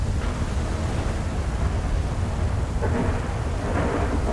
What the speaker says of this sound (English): It's so loud, that thunder.